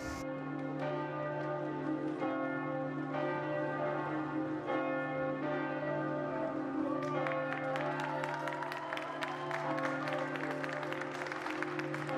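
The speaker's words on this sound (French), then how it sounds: "le carillon des cloches de Saint-Maclou nous sort d'entre les morts" Church bells of Saint-Maclou in Rouen chime steadily for about twelve seconds, struck tones overlapping into a dense ringing peal, with a murmur of people in the background.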